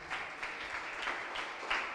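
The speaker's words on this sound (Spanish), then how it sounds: "Dele ese aplauso al Señor." A church congregation applauds during a Sunday service: dense, steady clapping from many hands fills the room, moderately loud and without pause.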